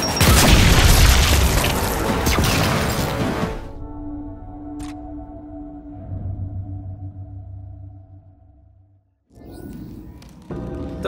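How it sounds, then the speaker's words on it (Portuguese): A grenade blast in the video game Gears 5 erupts as a loud, broad explosion, then decays into a low rumbling tail with lingering hum, followed by renewed game noise near the end. "Lançando granada!"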